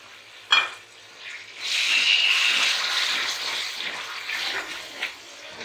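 Mutton liver and onions hiss in a pan, opening with a sharp clank. A loud, broad sizzle then rises and keeps going with small bumps as the mixture is stirred, and no one talks.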